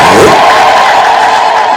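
A church congregation ululates and cheers loudly together in one sustained, close burst that slowly fades.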